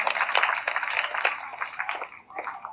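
Schoolchildren in a classroom clapping, a dense burst of many small hands that thins out and fades toward the end.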